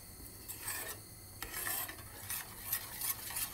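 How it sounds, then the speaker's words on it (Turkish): A spoon stirs cocoa with milk in a pot, scraping and swishing in repeated close strokes, quiet and rhythmic with no talking. "Önce eritiyoruz kakaomuzu sütümüzle karıştırıyoruz."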